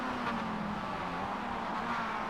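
Race cars from the iRacing sim racing game on the Charlotte Motor Speedway Roval, a steady droning engine note with no clear pass-bys, sitting low and continuous throughout.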